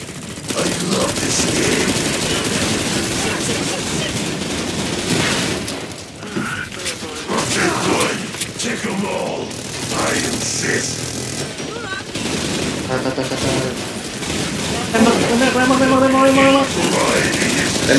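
Rapid, dense gunfire from Killing Floor 2 fills the stretch, with continuous automatic bursts and booms mixed with game music, while players talk over the action.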